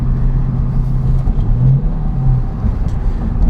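A Ford Mustang Bullitt's engine pulls hard through a corner, loud and close from inside the car, a steady low drone with a rising tone as it accelerates.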